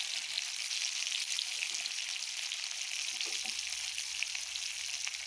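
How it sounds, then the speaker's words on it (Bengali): Meat fries crisply in plenty of oil, giving a dense, continuous sizzle and crackle that holds steady throughout with no voices. "দেখছি এটা শুধু খড়খুড়ে ভাজা, মাংসর খড়খুড়ে ভাজা।"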